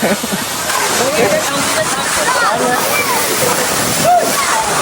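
Baba Waterfalls pours down in a steady, loud roar of falling and splashing water that fills the whole scene without a break, with voices faintly audible over it.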